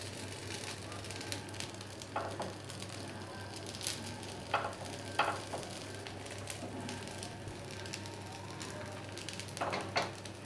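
Dosa batter fries in refined oil on a hot pan, giving a soft, steady sizzle with scattered small crackles and pops, fairly faint and close.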